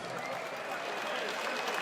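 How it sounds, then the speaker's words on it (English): A boxing crowd applauds both fighters after a 168 lb bout ends in a stoppage, a dense, continuous roar of clapping and crowd noise that stays loud and even throughout. "let's get a round of applause out here for both of these fighters"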